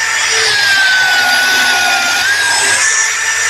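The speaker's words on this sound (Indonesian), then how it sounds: "kuat banget ini bor" Close and loud, a cordless 16V orange Kepu drill on an 8 Ah battery whines steadily at high speed for the whole stretch, with a faint grinding rasp as it bores through material and no pause or talk.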